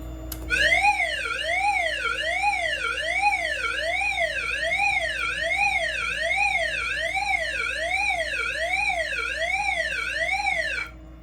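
A Notifier NFS2-640 fire alarm system sounds its agent release alarm, a loud steady warbling electronic tone that sweeps up and down in rapid regular cycles for about ten seconds, then cuts off abruptly.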